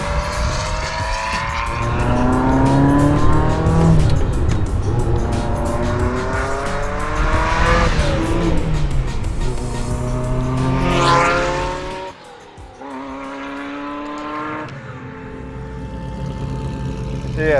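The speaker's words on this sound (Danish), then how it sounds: "Det er simpelthen første gang, jeg er bag rattet af en Ferrari 288 GTO." A Ferrari 288 GTO revs hard and loud, its engine note climbing and falling in repeated sweeping pulls, with tire squeal mixed in. The engine drops briefly before winding up again, and a voice speaks faintly underneath.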